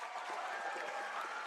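A crowd of fans at a Minecraft speedrunning championship event cheering and applauding, a dense, steady wash of clapping and noise with no talk.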